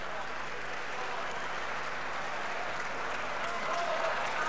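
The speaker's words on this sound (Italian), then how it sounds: "Gli applausi sono ovviamente al cartello mobile" Boxing arena crowd applauding the round card girl during a bout between Luigi Castiglione and Mercurio Ciaramitaro, a steady wash of distant clapping and crowd noise running the whole time, with a commentator's voice faint underneath.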